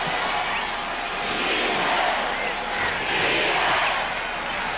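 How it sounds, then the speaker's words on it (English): An arena crowd at a 1996 NBA Eastern Conference Finals playoff game, Chicago Bulls at Orlando Magic, chants 'defense' in a dense, continuous roar that swells and recedes in slow waves. "You hear the chant of defense from the crowd"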